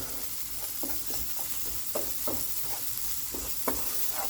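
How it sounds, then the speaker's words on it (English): Onion and garlic being stirred in a sizzling pan while cooking turkey meatballs, with a steady broadband sizzle and repeated scraping utensil strokes loosening crust from the pan bottom, close and continuous. "I'm stirring my onion and my garlic to remove those crusts from the bottom."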